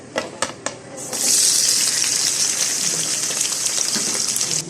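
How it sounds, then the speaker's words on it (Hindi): Chopped onions and green chillies hitting hot ghee: a few sharp clicks, then a sudden loud, dense crackling sizzle that stays close and steady to the end. "अब मैं उसमें प्याज और हरी मिर्चें डालूंगी कटी हुई।"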